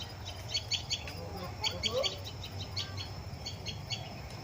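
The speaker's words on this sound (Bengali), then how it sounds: "পাখির ডাক আমি তোমাদের শোনাবো একটু পরেই একটু পাখির ডাক" Birds call repeatedly in the grounds of an ashram, bright chirps arriving in loose bursts at moderate distance over a steady low background hum, with no talking.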